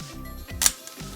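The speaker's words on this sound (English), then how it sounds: "we're going to open the shutter" A camera shutter on a single-lens reflex opens with one crisp mechanical click, set against a low hum of room tone.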